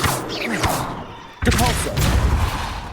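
A Confringo spell blast in Hogwarts Legacy, one sudden loud explosive burst partway through, followed by crackling, rumbling impact noise amid other game combat sounds.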